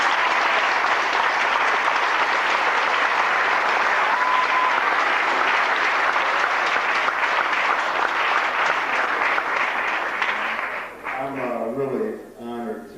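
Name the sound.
audience applause for the dean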